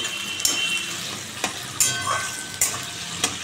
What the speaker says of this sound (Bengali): আলুটা এখন ভালো করে ভাজবো।